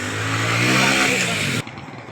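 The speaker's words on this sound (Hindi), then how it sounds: "उधर बाइक खड़ी है वो निकालेंगे फिर चलेंगे" A motorcycle near a shop in Mehar city runs with a steady, buzzing, revving engine close by for about a second and a half, then the sound cuts off abruptly into quieter background.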